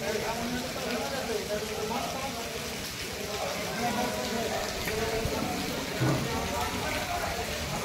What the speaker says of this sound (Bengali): দেখতে পাচ্ছেন বৃষ্টি পড়ছে।